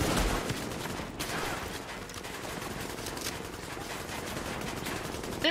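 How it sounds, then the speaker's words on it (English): An automatic gun in The Division fires in a dense, continuous rattle of rapid shots, mid-distance and fairly quiet, running unbroken for over five seconds with occasional sharper cracks and no voices. "This gun goes through ammo too fast."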